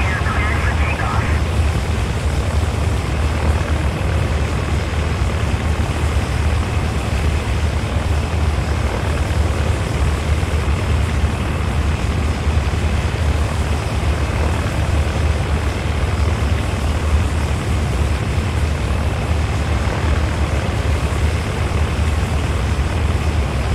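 A flight simulator video game airplane's engine roars steadily through takeoff, a loud continuous drone with a broad rushing hiss that holds without letup.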